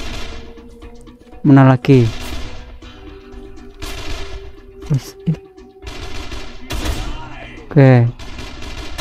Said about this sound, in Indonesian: sekarang jadi tembak-tembakan aneh kali lah